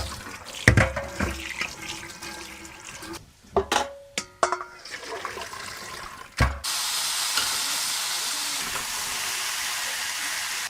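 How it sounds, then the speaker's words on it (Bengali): Water from boiled chickpeas pours out through a steel strainer in a kitchen. A few clanks and knocks of utensils come first, then a steady close rushing stream of draining water. "ওই যে ছোলাটা ঢালবো তো, জলটা নিংড়ে গেলে ভালো হবে"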